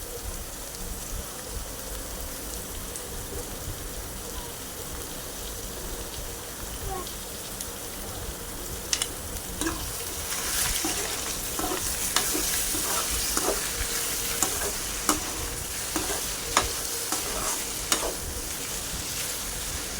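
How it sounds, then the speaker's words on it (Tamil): Half a kilo of chicken sizzles and fries in a pan while being stirred, with a steady hiss that grows fuller partway through and sharp scraping clatters of the spoon against the pan. "இப்போது சேர்த்துட்டு நல்லா கிளறி விட்டுக்கலாம்."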